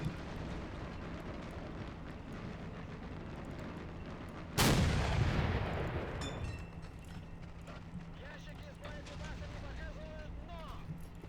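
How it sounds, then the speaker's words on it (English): A single heavy mortar round fires in the video game RobZ Realism Mod during a 1941 Russian line defense, one loud booming blast with a long rolling decay, set over constant battlefield ambience and distant gunfire. "Alright, it's time to crew the mortars."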